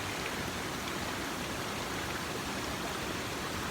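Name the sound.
waterfall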